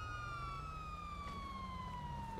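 A steady, continuous police siren wail in the video game GTA V with the LSPDFR mod, slowly falling in pitch, loud and constant over a low engine rumble, no voices.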